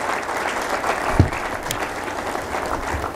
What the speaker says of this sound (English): give a big round of applause to the outstanding rowers of the country